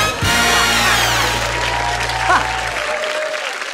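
A studio audience applauds on a Ukrainian TV game show. Steady crowd clapping runs throughout, under sustained tonal music and an overlapping voice, and fades slightly toward the end.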